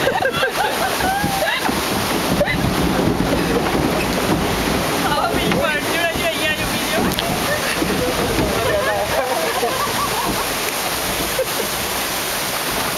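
Boat moving slowly through sea waves, a steady broad rush of engine and water wash with sloshing and wind buffeting the microphone, continuous and loud, with voices talking intermittently over it.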